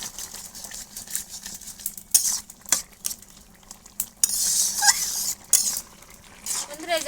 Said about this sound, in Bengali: শাকগুলো এরকম ভালো করে ফুটে দিতে হবে, তাহলে এই ঝোলটা ভালো ঘন হয়ে যাবে।